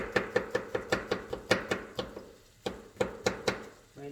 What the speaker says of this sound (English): What we do, we cut our mushrooms like this,